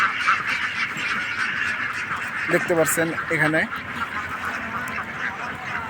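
Ducks at a large duck farm letting out a short burst of several quacks amid a constant murmur of the flock, while someone speaks over it.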